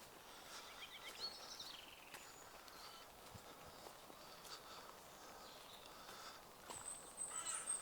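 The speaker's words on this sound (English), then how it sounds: "the birds that you can hear is a crow and a robin" Faint outdoor bird calls from a crow and a robin by woods and a canal: a few harsh caws and brief high chirps and trills, scattered over a soft background hiss, with some rustling near the end.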